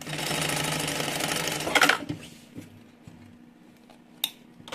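A sewing machine stitches fabric for a small two-in-one mini backpack, a steady close whirring run for about two seconds that stops, followed by a few faint clicks and handling sounds.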